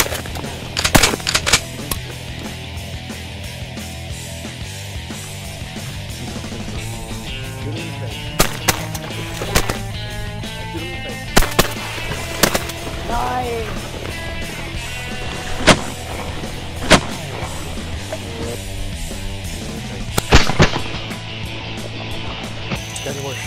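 Shotgun blasts during a teal hunt in Texas, several loud sharp reports spaced out over outdoor ambient noise.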